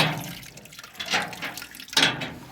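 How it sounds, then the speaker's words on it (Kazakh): Water pours steadily from a tap installed at a livestock market, a close, continuous splashing flow with slight surges, heard without speech. "Бұлақ сияқты ағып тұр енді бұлда."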